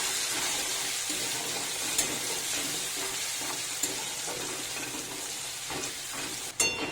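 Chopped onion and garlic paste sizzling in a frying pan, a continuous close hiss with occasional faint clicks of a spoon, and one sharper knock near the end.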